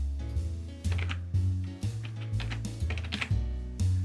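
Fingers tapping a computer keyboard while entering a password, a quick irregular run of close, crisp key clacks heard on their own.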